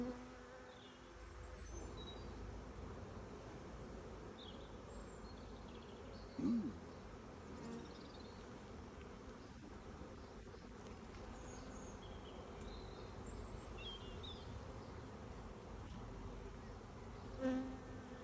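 Honey bees buzz steadily inside an opened hive during a spring colony inspection, a dense, continuous hum that holds throughout, with a couple of brief louder bumps.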